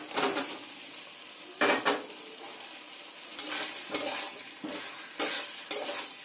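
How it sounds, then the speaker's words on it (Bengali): Fried potatoes are sautéed with spices in a pan for an egg-potato curry, with a continuous sizzle under repeated spatula stirs and scrapes at an uneven rhythm. "আলুগুলো মশলার সঙ্গে খুব ভালো করে কষিয়ে নেব"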